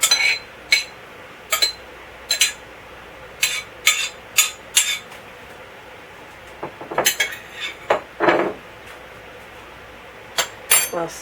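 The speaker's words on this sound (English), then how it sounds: "We'll stir that in so that our raisins and walnuts are nicely mixed." A utensil stirs raisins and walnuts into an English chess tart filling, producing a series of sharp scraping clinks against the bowl in irregular bursts, close and fairly loud, with quiet pauses between.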